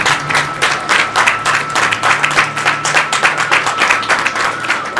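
Audience at a Gujarati religious yagya and elders' felicitation event in Bhader applauding, dense rhythmic clapping from many hands, loud and sustained throughout with no voices.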